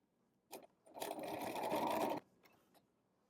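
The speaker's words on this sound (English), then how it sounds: "I'm going to use a straight stitch to back stitch over the end of the elastic to secure it a few times" A domestic sewing machine running a straight stitch back and forth over elastic, a short burst followed by a steady whirring run of about a second, then two brief taps, fairly quiet and close.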